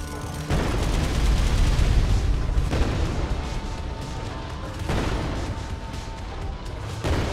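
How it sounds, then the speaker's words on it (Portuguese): Booming gunfire from ARK: Survival Evolved, several heavy shots spaced a couple of seconds apart, each a loud sharp onset followed by a rumbling tail, dense and near. "Tei. É tiro,"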